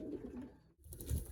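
Racing pigeons coo softly at their loft on a sunny day, with low, murmuring calls close by and a brief pause partway through.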